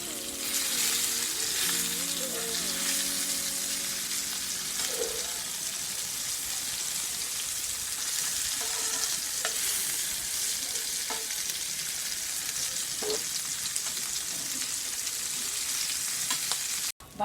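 Bhakas fish fries in a pan over a low gas flame, producing a steady soft crackling sizzle with occasional light scrapes and faint background sounds.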